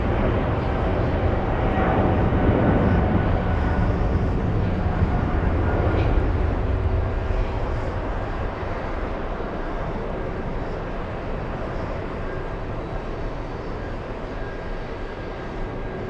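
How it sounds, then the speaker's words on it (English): A Virgin Atlantic A350-1000 at JFK airport rolls off the runway after landing, a steady broadband jet roar that swells slightly early on and then eases to a lower, constant rumble. "We have Virgin A350 1000 arriving, exiting the runway as we speak."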